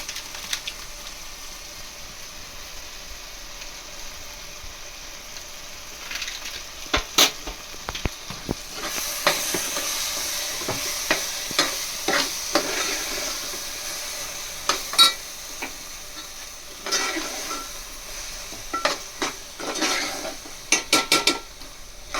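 Pav bhaji mixture with pav bhaji masala being stirred and sautéed in a pan, with soft sizzling and intermittent scraping clicks of a spoon against the metal, steady and close.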